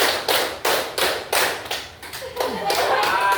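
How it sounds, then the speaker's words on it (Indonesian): A classroom of young pupils claps together in a counted teacher-led pattern, loud bursts of group clapping repeating in a steady rhythm, close by, with voices mixed in. "Tepuk 1, tepuk 2, tepuk 3, tepuk 4, tepuk 5."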